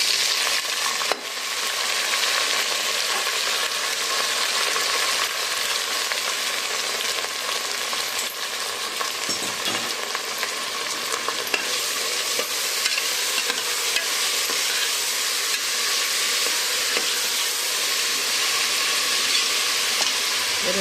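Sambar being stirred in a pan with drumstick and cooked dal added, a steady close sizzle and frying hiss with spoon scraping running continuously without pause.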